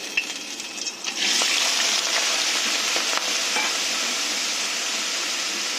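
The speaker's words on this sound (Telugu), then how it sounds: "ఇవి బాగా ఫ్రై చేసుకోవాలి గోల్డెన్ కలర్ వచ్చే వరకు." Small coconut pieces fry in a little oil until golden, starting with a few clinks before a steady, close, bright sizzle and hiss swells up and holds evenly to the end.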